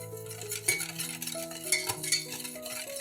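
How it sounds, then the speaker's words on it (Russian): Clinks and scrapes of a utensil stirring a milk mixture in a pot, irregular and close, over soft background music. "Опять перемешиваем."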